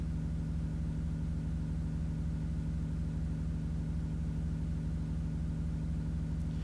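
A car engine from the video game Tornado: Research and Rescue holds a steady, low, droning hum at an even pitch throughout, a constant synthetic rumble with no clear revving and no voices.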